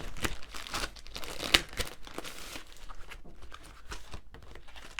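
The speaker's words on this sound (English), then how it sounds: "Excuse the rustling." Plastic packaging on a craft magazine crinkles and tears as it is opened by hand, an irregular run of close, loud rustles and crackles with a sharp rip partway through.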